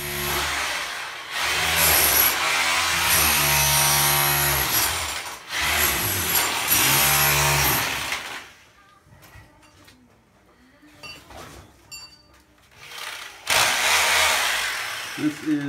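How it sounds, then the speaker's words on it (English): A chisel, apparently powered, breaks loose debris out of stone basement walls with loud, grinding, droning bursts for about eight seconds. A quieter stretch of scattered knocks and scraping follows, then another loud burst near the end. "Now I'm going to get to work chiseling out"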